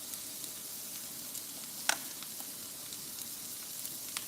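Food sizzles quietly in an iron skillet just after being flipped, a soft continuous hiss with a few small pops and crackles, one sharper crackle standing out.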